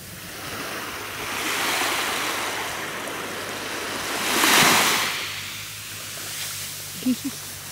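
Sea waves washing onto the shore at Antalya, a broad steady surf roar that swells twice, peaking loudest near the middle, with wind and faint background noise and no talking.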